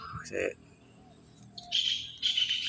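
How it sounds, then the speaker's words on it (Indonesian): Shrill, repeated kingfisher calls ring out in two bursts late in the clip, following a few softer chirps and brief background sounds; moderately near. "burung yang bersuara tadi itu adalah burung tengkek"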